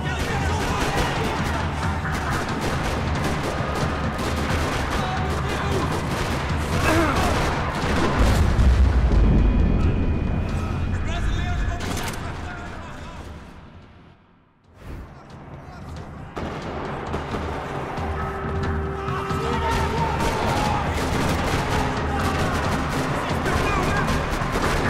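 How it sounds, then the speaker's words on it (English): Continuous rattling gunfire and booming blasts fill a parking lot in the video game Max Payne 3, briefly dropping away before the shooting resumes just as heavily. "Another parking lot rattling with gunfire."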